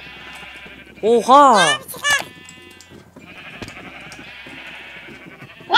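Minecraft sheep bleat in a quick cluster of wavering, nasal calls, loud and close, followed by a second short bleat, while someone talks excitedly before and after and game ambience hums underneath.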